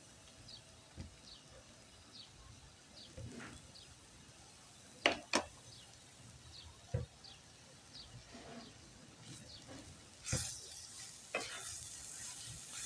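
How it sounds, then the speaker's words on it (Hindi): Crushed black pepper is fried and stirred into a vegetable and chicken stuffing in a pan, giving a soft continuous sizzle broken by occasional spoon scrapes and clinks, with no talking. "अब हम इसमें भून लेंगे काली मिर्च कुटी हुई, हल्की सी भुनाई कर लेंगे इनकी भी हम।"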